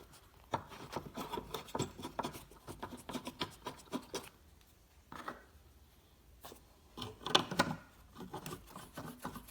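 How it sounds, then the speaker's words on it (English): Screws being driven back into a tail light assembly on a Dodge Grand Caravan, soft close scraping and rasping turns in short bursts with quiet pauses between. "Now let's just put these screws back in, huh?"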